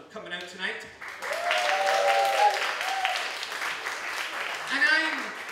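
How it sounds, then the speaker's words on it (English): Cabaret audience applauding and cheering, a steady wash of clapping with whoops rising over a host's voice at the start and brief talk near the end. "give yourselves a big round of applause for coming out tonight."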